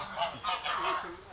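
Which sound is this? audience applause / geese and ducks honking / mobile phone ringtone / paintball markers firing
geese and ducks honking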